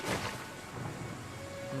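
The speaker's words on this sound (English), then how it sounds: "We gotta get out of this rain. There's no telling how long this storm could last." Steady rain hisses in the background while a low rumble of thunder rolls in a storm scene from the animated My Little Pony episode Appleloosa's Most Wanted, fairly quiet and continuous throughout.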